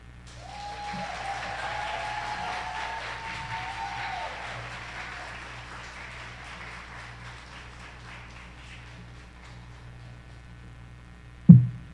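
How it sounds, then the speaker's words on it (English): Applause from a TEDx audience for a speaker who has just finished, moderate and steady in the opening seconds, then thinning and fading toward a low tail, with one sharp loud knock near the end. "Another round of applause for Nathan Spiteri."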